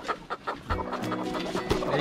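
Several chickens cluck in short, repeated bursts close by, with hens moving around a nesting area where they settle as if warming eggs.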